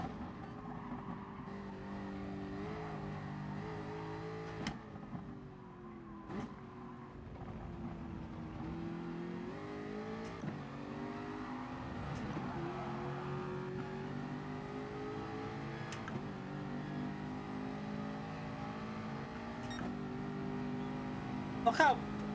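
Race cars accelerating in Gran Turismo, a McLaren and a Jaguar, with sustained engine drone rising and falling through gear changes, steady and loud throughout, with a person talking over it.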